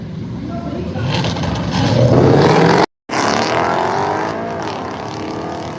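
Ford Mustangs drag racing down a strip, a loud broadband engine roar that builds and sweeps in pitch before a brief cut, then continues as the cars pull away under crowd and announcer noise.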